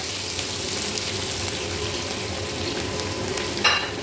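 Onions frying in hot oil for an Arabic-style royal chicken biryani, giving a steady, close sizzle throughout with a brief louder crackle near the end and no talking.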